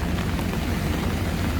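Heavy rain pouring over a New York City street, a dense, unbroken hiss of drops striking wet surfaces with a low rumble underneath, steady and close for the entire moment.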